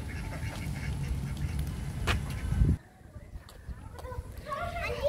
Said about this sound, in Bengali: আমাদের হাঁসগুলো ঘুরে বেড়াচ্ছে।